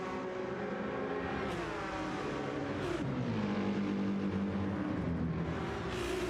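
GT3 race cars, a Lamborghini, Porsches and Ferraris, roar continuously in a racing video game, with engines revving and shifting pitch as they run together in a dense, steady drone.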